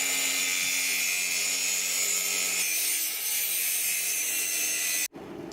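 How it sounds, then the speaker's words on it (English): Steel is welded onto a homemade T-post driving tube, making a loud, continuous harsh crackling buzz close by that stops abruptly just before the end. "I'm welding this bit onto my little pile driver, my little T-post driving tube."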